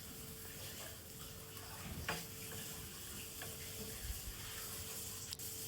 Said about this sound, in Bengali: এবার গোবিন্দভোগ চালটাকে দিয়ে একটু হালকাভাবে নেড়ে চেড়ে নিচ্ছি।